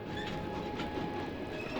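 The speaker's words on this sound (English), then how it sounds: "a railway train pulled into the forest of Compiègne" A railway train rolls through the forest of Compiègne in 1918, giving a steady, dense rumble of wheels on track with a faint high squeal and no voices.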